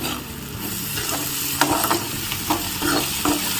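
Onions frying in a pan make a loud, dense, continuous sizzle, broken by several scraping strokes of a spoon as they are stirred, with no voices.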